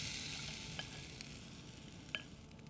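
Chickpeas frying in olive oil with chopped garlic: a steady broadband sizzle throughout, with a few brief utensil scrapes and clicks from stirring, fairly close and moderately quiet, no talking.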